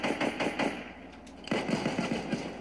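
Rapid bursts of automatic gunfire from the Fortnite video game, two quick volleys separated by a brief pause, fairly loud with no talk over them.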